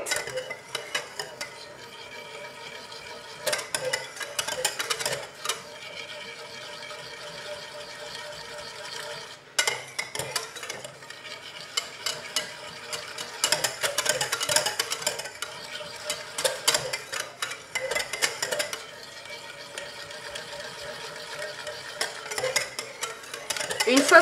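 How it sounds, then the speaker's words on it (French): A whisk scrapes and clinks rapidly against a bowl, close and continuous, with a few brief pauses in the rhythmic stirring. "Et je fouette."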